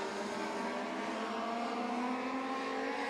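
Legend race cars racing at Beckley Motor Speedway, a dense continuous roar of several engines with rising and falling pitch as they pass, loud and sustained without talk.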